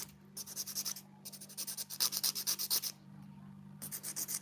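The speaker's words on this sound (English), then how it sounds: "File it to make it smooth before painting." A nail file rubbing fingernails smooth before polish, with quick rhythmic scraping strokes in bursts separated by brief pauses, close and clear over a faint low hum.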